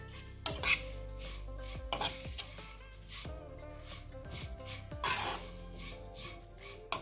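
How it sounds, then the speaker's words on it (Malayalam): Vermicelli roasting in ghee in a pan, with repeated scraping strokes of a spoon against the pan over a soft sizzle and a few metallic clinks. "അത് ഇതിലിട്ടിട്ട് നന്നായി വറുത്തെടുക്കുക"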